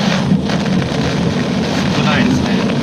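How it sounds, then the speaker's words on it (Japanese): Gusty typhoon wind buffets the microphone in a loud, continuous roar with slight surges, outdoors during Typhoon Jebi in September 2018. "時々突風が吹きますね。"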